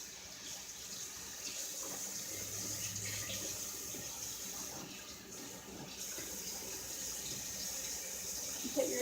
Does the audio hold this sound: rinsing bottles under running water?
yes